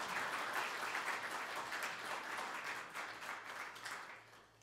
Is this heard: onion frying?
no